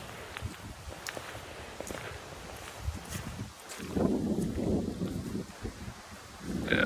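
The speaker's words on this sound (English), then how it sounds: "You guys can probably hear the wind" Gusty wind moves through the woods in a steady breathy rush that swells louder midway, with crunching footsteps and rustling leaves close by.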